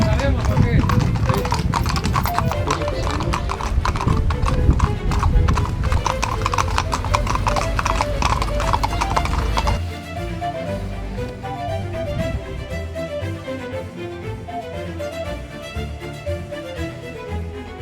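Horse hooves clip-clop in a steady, dense beat on a high bridge in Spain with a rider on the horse's back. The hoofbeats are loud at first, then soften about halfway through.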